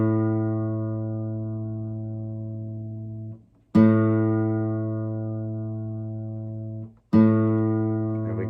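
A guitar string rings out as a reference note for tuning, plucked three times in even succession, each time sustaining clearly and slowly fading before the next pluck.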